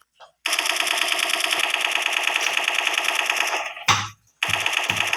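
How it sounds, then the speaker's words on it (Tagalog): A Gatling gun fires in a video game, a long rapid-fire buzzing burst followed by a short heavy thump, a brief gap, then another rattling burst, loud and close. "pag may Gatling gun ka, sa taas ka pwesto para ubos talaga sila lahat"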